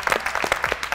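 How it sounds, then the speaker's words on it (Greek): Studio audience on a TV cooking competition clapping briefly, a close run of distinct, fairly loud hand claps in quick succession. "Ένα χειροκρότημα,"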